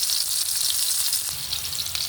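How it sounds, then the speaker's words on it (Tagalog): Garlic and onion sizzle steadily in hot oil in a warm pan, a dense, even frying hiss that stays loud and close throughout with no pauses. "Guys, medyo mainit na po yung kawali at maglagay na po tayo ng mantika. Yan guys, lagay na po natin itong ating bawang at sibuyas."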